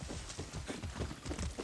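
Horse hooves in the video game Far Cry 6 clip-clop in a quick, even rhythm, fairly close but soft, with no voices.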